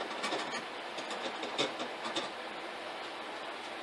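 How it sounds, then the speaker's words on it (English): A metal file rasps along the sharp edge of a steel nut being shaped into a ring, making a steady, close scraping texture with a few rhythmic strokes standing out. "Start by taking the sharp edge off around this with this file."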